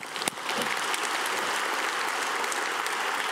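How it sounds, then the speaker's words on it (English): Audience applause for Boeing at a public event, a dense steady wash of clapping from a crowd that swells quickly and holds evenly throughout, with no talking over it. "so big round of applause for Boeing."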